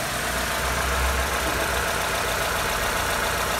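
A Jeep Renegade with automatic transmission sits in park with its engine running warm, producing a steady, close, continuous idle hum with low rumble and no speech.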